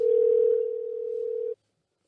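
An outgoing telephone call rings out with a single steady tone that holds for about a second and a half, then cuts off into silence.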